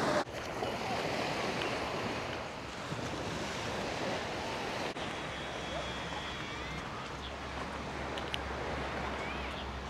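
Waves wash in continuously on a black sand beach in Macau, a broad, steady roar of surf mixed with gusting wind noise on the microphone, and a faint low engine hum joins in partway through.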